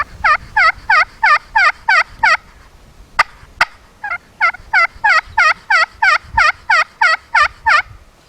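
A turkey slate call worked to imitate a hen, giving two clear runs of rapid, evenly spaced clucks and yelps, loud and close, broken by a couple of sharp clicks midway, with no talking.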